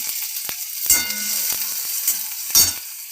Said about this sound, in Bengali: তারপর কালো জিরে ফোড়ন অল্প করে, তারপর পেঁয়াজ কুচি, লঙ্কা কুচি